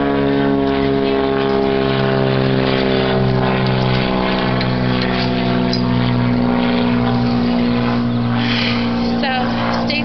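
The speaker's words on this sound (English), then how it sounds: "So there's an airplane. I hear airplanes." A loud, steady propeller-engine drone, droning overhead with a constant pitch and a faint voice speaking underneath.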